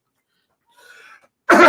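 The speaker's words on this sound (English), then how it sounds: "I got a cough now." A single sharp cough bursts out close and loud after near silence, preceded by a brief murmur of faint background sound.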